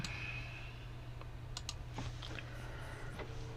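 Faint, sparse keyboard clicks tap over a steady low hum, just a few keystrokes scattered across a few quiet seconds.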